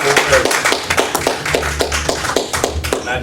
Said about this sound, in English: let's give our sister another round of applause